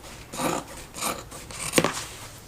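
Scissors trim the fabric seam allowance on a planner cover with a few soft, close snips and rustles. The cuts come in a short irregular series with no talking.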